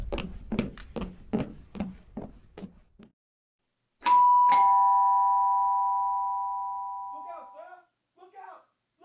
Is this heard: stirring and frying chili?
no